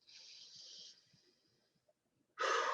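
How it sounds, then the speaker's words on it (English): Close, quiet breathing: one slow inhale through the nose, a pause, then a sharper exhale through the mouth at the end. "In through your nose, out through your mouth."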